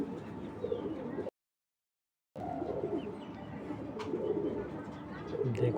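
Racing pigeon coos from a chocolate-coloured female, low soft cooing repeated steadily at close range, broken by a brief gap of silence partway through.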